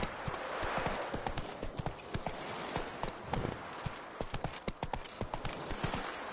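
Roach from The Witcher 3 gallops on in a fast, continuous run of close, loud hoofbeats that dominates throughout.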